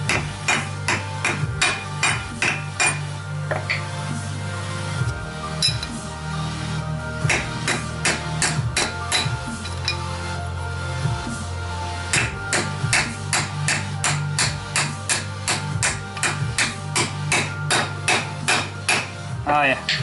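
Rapid, sharp metallic hammer strikes drive a front wheel bearing into a Yamaha ATV hub, a steady run of loud ringing hits close by, occasionally pausing before resuming.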